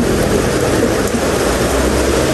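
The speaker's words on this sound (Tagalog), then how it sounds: "Wala pong sawa ang ulan." Steady heavy rain pours continuously, a dense hiss of drops drumming on surfaces close by, with no voices.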